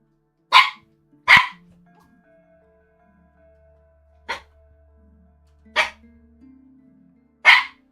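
A dog barks five sharp, loud, close times with irregular gaps, over a faint low background hum.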